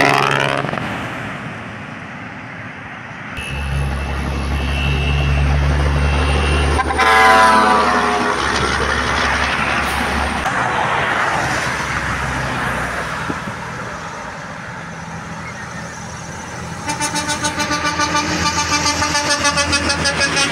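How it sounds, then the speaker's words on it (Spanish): Truck on highway CA5 in Honduras with a loud, rumbling engine and sustained horn blasts, including a long multi-tone horn near the end, with excited voices talking over it. "¡Qué hermosa nave, papá! ¡Escuchen ese motor!"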